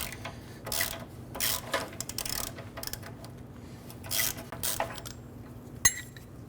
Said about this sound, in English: I'm gonna use an 18 millimeter box wrench on the bolt side and a 15/16 socket and ratchet on the inside.